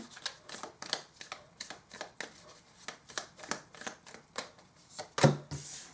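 Tarot cards are shuffled by hand in repeated quick riffling bursts, close and crisp, with a louder snap of the deck near the end.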